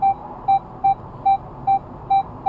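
A Minelab Equinox metal detector swept over a 10 carat gold ring gives seven short, evenly spaced high beeps, loud and close, with quiet gaps between them.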